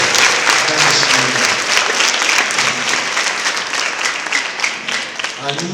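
A church congregation claps together in loud, sustained applause throughout, with a few voices and crowd noise mixed in beneath the clapping.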